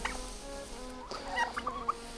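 Turkeys gobble and chickens cluck on a small farm in Kosovo, faint and somewhat distant, in short irregular bursts over a low steady background with no talk.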